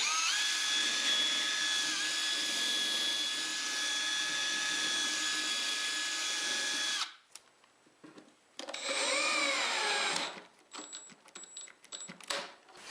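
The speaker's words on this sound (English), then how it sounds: "take the drill and rock it back and forth as I drill to elongate the hole" A steady high-pitched power drill whines for several seconds while elongating a hole in pine wood, then stops, followed by short bursts of drilling and faint clatter.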